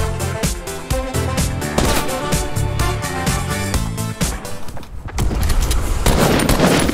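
Rapid gunfire in the video game Fortnite, loud bursts of repeated shots over a busy game soundtrack, fired in quick rhythmic volleys that continue without a break.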